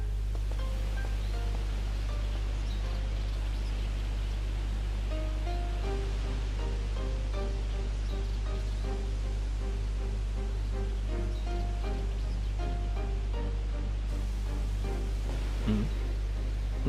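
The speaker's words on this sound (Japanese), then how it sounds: "滝の水音みたい。" A distant waterfall in a mountain village setting in Shenmue II, heard as a steady low rushing wash under soft melodic background music, with no voices.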